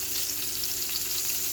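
Cauliflower steams in a lidded pot with a small amount of water, producing a steady, close hiss and sizzle that runs evenly throughout with no talking.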